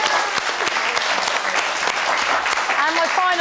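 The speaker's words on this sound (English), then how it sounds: "Round of applause for Stephen Slater." Studio audience applause, a dense burst of clapping and cheering that holds steady for a few seconds, with voices over it.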